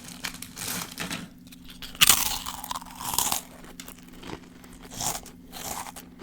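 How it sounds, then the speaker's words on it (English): Crackers being munched close to a microphone, with repeated crisp crunches and bites coming in irregular bursts, loud and near, with no talking. "I've been munching on crackers this whole recording session."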